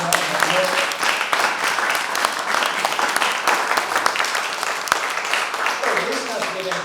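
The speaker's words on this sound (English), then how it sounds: "A warm round of applause for everybody who performed tonight." At a poetry slam show, the audience applauds steadily for the night's performers, with crowd voices and cheers mixed into the clapping. The sound stays fairly loud and sustained.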